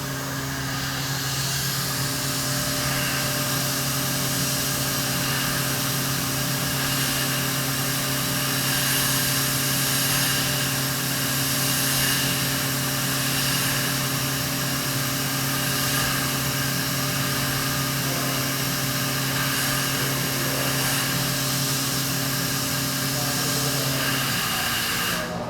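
An STC Titan 6M CNC machine runs at maximum spindle speed, a loud, steady high-pitched whine with hiss that holds unbroken for over twenty seconds, then stops near the end.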